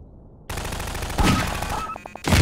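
Video game gunfire, a sudden burst of rapid shots that keeps going and gets louder near the end.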